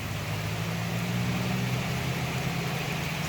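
A Hino S700 truck's engine drones low and steady on a steep hill during a heavy downpour, a constant rumble beneath the broad hiss of rain.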